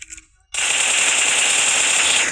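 Automatic gunfire in the video game PUBG, a sustained rapid burst of shots that starts abruptly after a brief pause and keeps going loud and continuous to the end.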